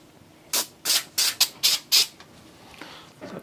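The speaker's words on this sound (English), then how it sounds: "Take a little bit of cleaner. Just Unifilter foam cleaner." Unifilter foam cleaner sprayed from a can onto a Tao Tao ATV part during routine maintenance: six short, sharp hissing bursts in quick succession, close and loud, then a faint rustle.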